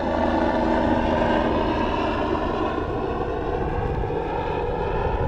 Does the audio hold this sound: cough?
no